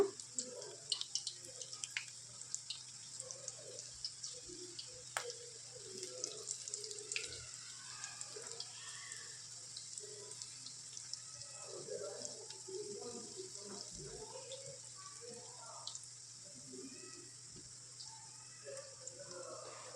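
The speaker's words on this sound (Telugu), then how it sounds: "కలుపుకునే పకోడాని ఈ విధంగా మనం ఆయిల్లో వేసుకోవాలి పొడి పొడిగా" Onion pakoda batter dropped into hot oil gives a steady fine sizzle and crackle with scattered pops, constant throughout at low to moderate level.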